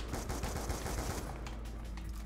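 A SCAR rifle fired from the hip in the video game Black Ops 2 gun game: a rapid burst of close, punchy automatic gunshots in a steady rhythm, continuing for about two seconds.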